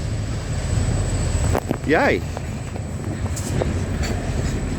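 An Australian steel train hauled by three locomotives rumbles past outdoors under steady wind noise, with a brief cheer from a voice in the middle.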